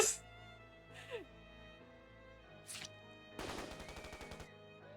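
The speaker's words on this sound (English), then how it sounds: "Gunfire and screams echoed from the back of the train." Gunfire in the video game 428: Shibuya Scramble, a rapid burst of automatic shots ringing out against a steady musical backdrop, preceded by a few sharp swooshing game effects.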